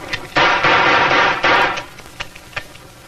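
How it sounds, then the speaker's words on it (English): Revolver shots fired rapidly in a draw-and-shoot trick shot at a dropped ball, one round a blank; loud blasts merging into a sustained booming burst, followed by a few faint clicks and knocks. "Listen to the shots and watch the ball."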